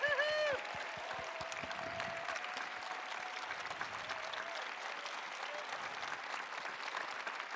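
An audience stands and applauds Stacy for her hard work and dedication with continuous, even clapping that holds at a steady level. A brief voice is heard at the very start.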